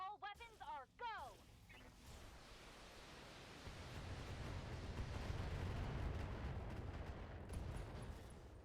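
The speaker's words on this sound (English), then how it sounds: "Oh, ammo explosion." A mech's ammunition cooks off in the BattleTech video game, a low, sustained rumbling roar that swells after a brief burst of synthetic tones and fades slowly, with no speech over it.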